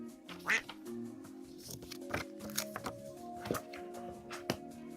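Duck quacks played as a sound effect during a live vintage decor and collectibles sale, a string of short nasal quacks with sharp clicks and taps between them over a low background.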